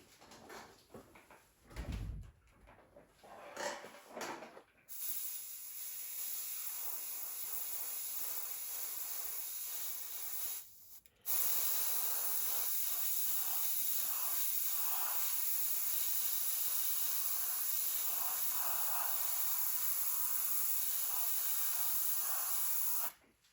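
An airbrush sprays paint onto a 1/48 scale B-25B model, a steady close hiss that runs for long stretches, briefly cuts off and restarts, with a few short softer bursts at the start.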